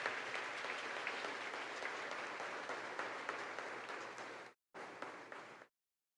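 Church congregation applauding during a Catholic Mass, steady dense clapping that gradually thins, breaks off briefly, resumes for a second and then stops abruptly into silence.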